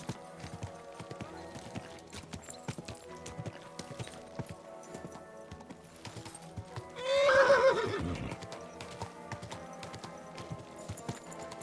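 A horse in Kingdom Come: Deliverance II whinnies loudly and close around the middle, with clip-clopping hooves and game ambience running throughout.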